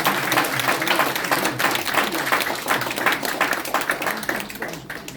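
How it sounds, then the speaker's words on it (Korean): A room of people applauds at a party-merger press conference, sustained, loud and dense, with many hands clapping at once. "모두 박수로 맞이하겠습니다."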